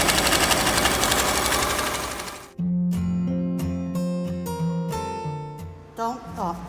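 A sewing machine topstitches bag straps with a size 14 needle at four-stitch length, its motor whirring in short start-stop bursts after a louder steady stretch, close and clear.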